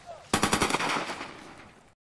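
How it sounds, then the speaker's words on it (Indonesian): Rapid burst of repeated gunshots, about half a dozen sharp cracks in quick succession, fairly distant, trailing into a reverberant tail before cutting to silence. "Saat itu terdengar suara tembakan berkali-kali."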